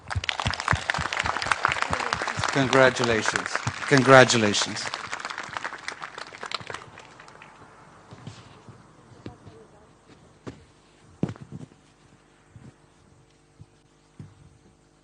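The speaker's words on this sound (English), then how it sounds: "I would like all of you to please give her a round of applause" Audience applause at a university graduation ceremony: sustained clapping from a large crowd that fades into scattered claps, with a voice speaking over it.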